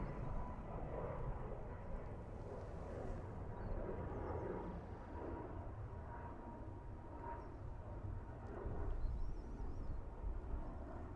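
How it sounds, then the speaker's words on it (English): Aer Lingus Airbus A320 arriving at Dublin Airport from London Heathrow, a steady, faint-to-moderate engine rumble and roar that holds across the stretch, swelling slightly near the end, with some wind noise mixed in. "this A320 from Aer Lingus in from London Heathrow"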